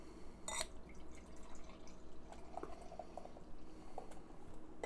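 Beer poured from a bottle into a glass, faint gurgling and dripping with small splashes and fizz, quiet and close, with no voices.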